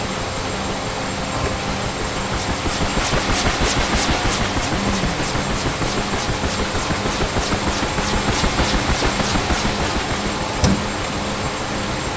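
Steady helicopter rotor and engine drone with a rapid rhythmic chop building over several seconds as a Huey's rotor spins up in the DCS flight simulator game, continuous and fairly loud throughout.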